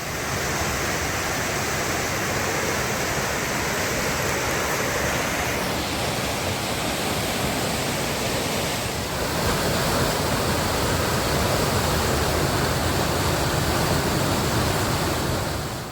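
Floodwater roars through the Strid, the narrow channel of the river at Bolton Abbey, running far deeper than normal. It makes a constant, dense rushing wash that never lets up.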